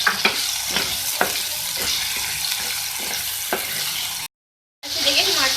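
Chopped green onions and potatoes sizzling and frying in a pan, a dense steady hiss with occasional sharp crackles and stirring scrapes, close and loud, briefly cut off before resuming, no talking.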